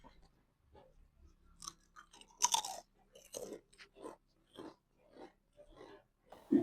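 Someone eating a homemade crunchy kipping snack, with a series of close, sharp crunching bites and chewing at an irregular rhythm.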